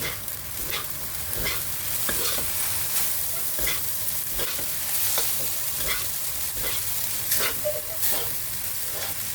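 Singapore noodles stir-fried in a pan, a steady hissing sizzle punctuated by regular spatula scrapes and clanks against the metal, close and continuous with no voices.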